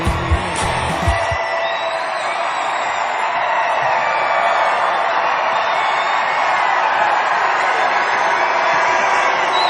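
A big crowd at a Donald Trump town hall in Denver, Colorado, roaring and cheering in a sustained, loud wash of voices and whoops that fills the arena, following a brief thump at the start.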